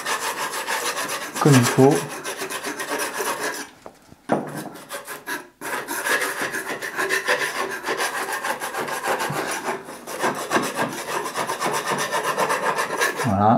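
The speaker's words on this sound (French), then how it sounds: "on enlève bien toutes les parties qui n'adhèrent pas au support. Voilà, on va venir gratter" A painter's knife scraping blistered, loose paint off a wooden surface, a loud close rasping and scratching in continuous strokes with brief pauses, a voice speaking briefly.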